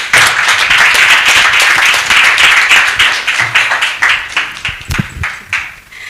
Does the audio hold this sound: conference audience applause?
yes